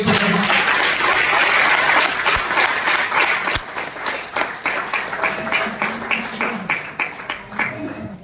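Loud crowd applause in a training-session hall, thick at first and then thinning into distinct, rhythmic claps that slow toward the end, with some voices underneath.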